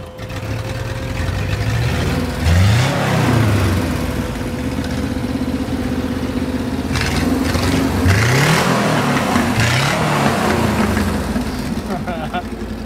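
Porsche 912e flat-four with a holed exhaust, rough mid-range engine running with repeated rising revs, loud and close, with people talking over it.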